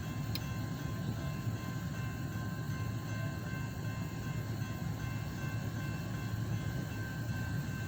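BNSF GE locomotives roll past the Beverly Street grade crossing in a continuous, steady rumble with a faint high whine, sustained and unchanging throughout, with no voices.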